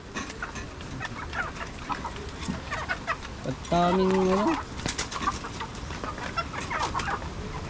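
A chicken clucks in a short burst amid outdoor background noise, with a person speaking briefly nearby.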